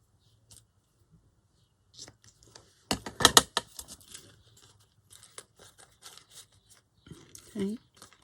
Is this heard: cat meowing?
no